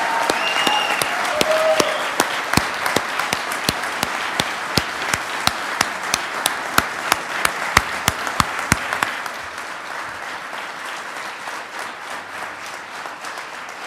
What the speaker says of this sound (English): one big round of applause for our Vietnam War veterans